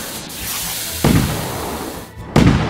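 Two loud booming firework bursts in a simulation video game, about a second apart, each with a crackling fizz trailing off, over a steady hiss of background noise.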